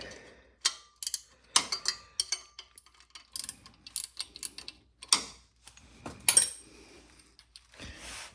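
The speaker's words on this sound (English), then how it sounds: "we're going to loosen up this nut right here, and you're going to need a 14mm wrench" A 14mm wrench works a nut loose on the drive belt tensioner of a 2010 Kia Soul, giving sharp intermittent ratcheting clicks and metallic taps, close up and fairly quiet, with no speech.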